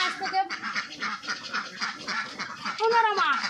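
Laying ducks on a duck farm quack loudly and repeatedly close by, with several overlapping calls forming a continuous chorus.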